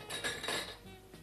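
Cutlery and dishes clink softly while being packed into a basket, a few quick metallic chinks close by and fairly faint, no speech.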